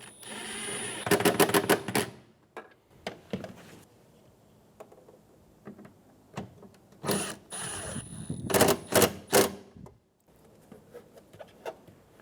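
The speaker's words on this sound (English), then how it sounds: "Reinstall the 10mm screws." Ratchet clicking in two close, loud bursts as 10mm screws are driven back into the exterior door handle of a 2007-2012 Nissan Altima, with quieter handling clatter between the bursts.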